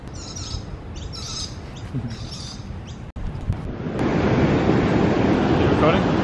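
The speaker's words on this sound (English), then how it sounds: "Here we're at the beach" Wind and surf at a beach, with steady broadband rushing that swells louder in the second half, preceded by a few faint chirpy sounds and a brief dropout.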